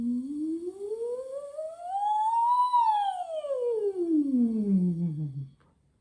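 A voice imitates a siren in a vocal warm-up, one smooth glide rising from low to high and sliding back down over about five seconds, steady and clear with no other sound.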